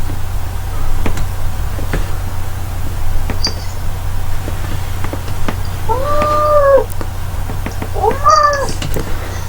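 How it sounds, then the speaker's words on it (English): A loud house cat meows twice, drawn-out wavering cries rising and falling, over a steady low hum with scattered clicks. "Oh, your cat's really loud."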